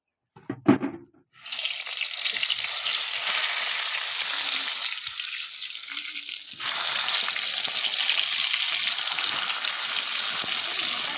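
Begun bhaja, eggplant slices frying in oil, a steady loud sizzle that runs unbroken after a few knocks at the start and swells briefly partway through.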